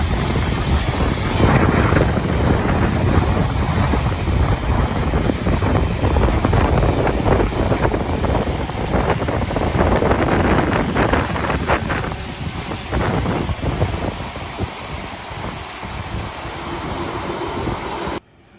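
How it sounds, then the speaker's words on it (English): Strong wind buffets the microphone in loud, rumbling gusts in a field during seed drilling with a Case Quadtrac 620 tractor, easing slightly toward the end. "Very breezy. It's a bit windy here today."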